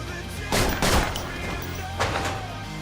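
Gunshots from the Crows Zero 2 film sound as a few sharp reports, two close together and a third a second later, over steady background music.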